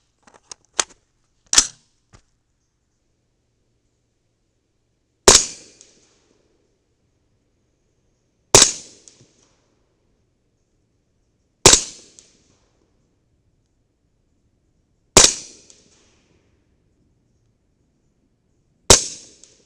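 Six sharp 300 Blackout rifle shots ring out from a CMMG 8-inch barrel, alone and unhurried: two quick cracks close together, then four more spaced about three seconds apart, each with a short decaying tail.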